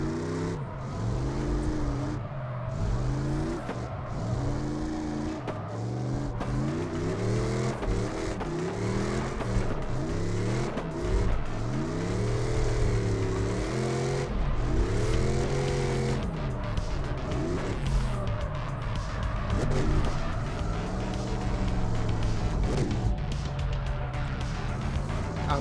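A Mustang revs and drifts through career mode in a racing video game, its engine note climbing and falling in steady sweeping waves across the run with gear changes, dense and continuous from start to finish.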